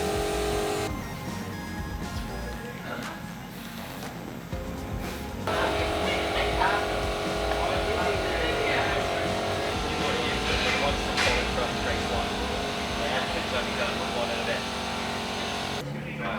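GB4 race car on track at Donington, engine droning loudly and continuously with shifts in pitch as it accelerates and changes gear, heard from on board for the whole stretch.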